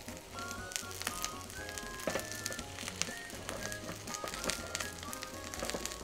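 Meat for sukiyaki sears in a pan with a close, steady sizzle and crackle, punctuated by brief spits and pops and faint clinks of utensils.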